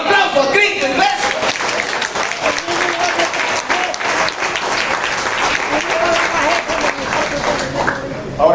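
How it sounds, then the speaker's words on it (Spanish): A church congregation claps for Christ during a Bible study, with dense, sustained applause filling the room steadily from start to finish, loud and close. "Un aplauso a Cristo, iglesia."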